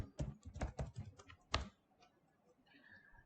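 A short burst of clicky keystrokes on a computer keyboard, several quick taps then one sharper press, close and fairly quiet, followed by near silence.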